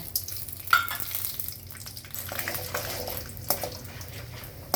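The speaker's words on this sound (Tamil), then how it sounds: "கருகாமல் சிம்மில் வச்சு நல்லா வறுத்துக்கோங்க" Masala dry roasting in a pan over a low flame gives a steady soft sizzle and rustle with faint scraping from stirring, moderately close, with no talking.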